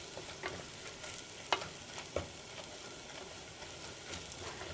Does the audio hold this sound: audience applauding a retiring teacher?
no